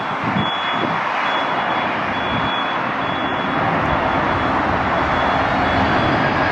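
A FedEx jet lands at LAX as its thrust rises just before touchdown, a broad, steady engine roar that holds loud and close throughout, with a faint high tone over it.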